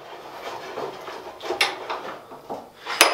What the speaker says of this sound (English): I can just slide it over the table into the vise